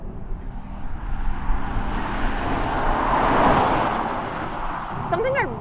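An Acura TLX Type S engine gives a low, steady hum while driving, mostly buried under a broad wash of road and wind noise that swells slightly midway before easing off.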